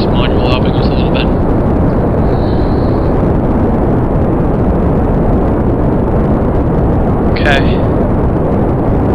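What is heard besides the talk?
rocket fuel boosters firing in video game Kerbal Space Program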